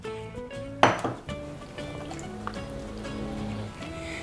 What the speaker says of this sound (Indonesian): Pastikan kita mengaduk adonan ini sampai benar-benar rata dan sampai halus